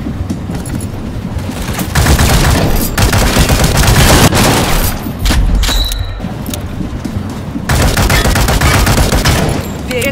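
Loud, near gunfire in the World War Heroes shooter game: dense bursts of rapid automatic shots with booming reports, broken by brief pauses before firing resumes.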